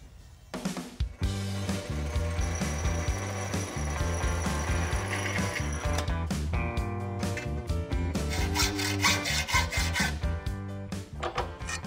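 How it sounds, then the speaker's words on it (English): A drill press bores into wood while a tool hanger is being made: a steady mechanical whine with a grinding, rasping edge runs for several seconds at close range, shifting in tone as the bit cuts, with no talking. "take a quick trip over to the drill press"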